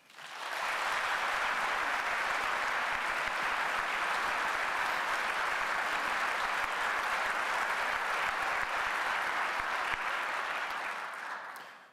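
A lecture-hall audience at the Westminster Town Hall Forum applauds steadily for about eleven seconds, a dense even wash of clapping that fades out at the end with no talking over it.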